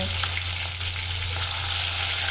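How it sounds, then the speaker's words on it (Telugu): Fish pieces coated with turmeric and salt fry in oil for a Bengali-style fish curry, giving a steady, close sizzle with a constant low hum underneath and no voices. "ఆయిల్ వేసి మనం పసుపు ఉప్పు కలిపి పెట్టుకున్న ముక్కల్ని ఈ విధంగా వేయించి"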